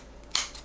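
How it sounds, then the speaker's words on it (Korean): Kitchen scissors cut shrimp into a bowl for broccoli and shrimp steamed eggs, giving one crisp, close snip against a quiet background. "새우는 위에 올릴 새우 빼놓고 나머지 새우를 가위로 잘라 넣으면 됩니다."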